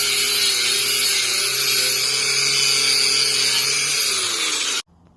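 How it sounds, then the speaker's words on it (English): An old propane tank being converted into a gas forge is worked over with a power wire brush, giving a loud, steady, high-pitched grinding whine that holds for several seconds and then cuts off abruptly. "I'm going to give it another going over with the wire brush."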